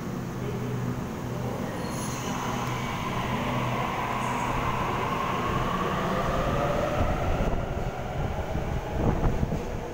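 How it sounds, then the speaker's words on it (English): A Sydney Waratah Series 1 electric train sits at a platform at Wynyard station, giving a steady low rumble and hum with a faint squeal and clanks. Heard close and continuous for about ten seconds, with no talk. "Starting from platform number 6, Waratah Series 1 set A64."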